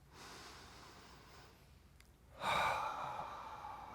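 A seated audience at a dharma talk draws a deep collective breath, a soft, airy rush of many people inhaling and exhaling together that swells in the quiet room, then slowly fades.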